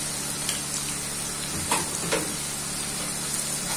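Garlic frying in hot oil for a pabda fish curry, a steady soft sizzle and hiss with a few faint clicks of stirring, close and unbroken.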